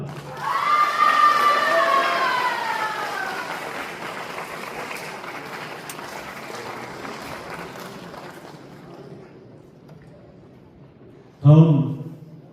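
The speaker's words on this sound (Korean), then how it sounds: "박수 부탁합니다" An audience at a Korean War student-soldier memorial ceremony claps and cheers loudly at first, then the sound thins and fades into a quiet hall before a short, loud burst of noise near the end.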